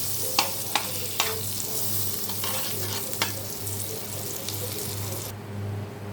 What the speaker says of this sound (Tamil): கடாய் சூடாகிட்டுருக்கு. இப்போ நம்ம பட்டர் போட்டுக்கலாம். பட்டர் மெல்ட் ஆகட்டும்.